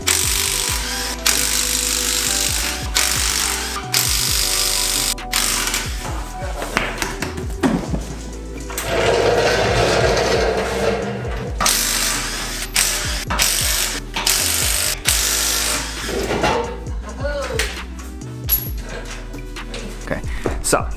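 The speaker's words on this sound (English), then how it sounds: "So let me take these wheels off quick." A power tool zips off the wheel bolts of a Mercedes 190e W201 in a garage, with loud whirring bursts broken by clanks and taps between runs.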